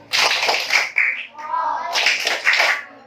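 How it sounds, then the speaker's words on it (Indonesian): A classroom of fifth-grade pupils performs a salute clap, a patterned burst of rhythmic claps in two bursts with a short gap, close and fairly loud with children's voices mixed in. "Sudah semua selesai? Tepuk salut."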